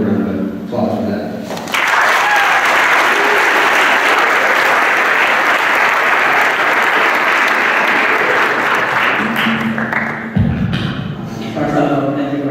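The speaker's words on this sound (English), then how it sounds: "I want to give him a round of applause for that" Sustained audience applause fills a school athletic awards ceremony, loud and steady for about nine seconds before tapering off, with brief voices at the start and end.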